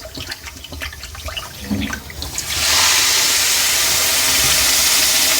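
Water pours loudly and steadily into sugar in a pan to make syrup for chandrakala sweets, a close rushing stream starting after a few seconds of quieter clatter and continuing to the end.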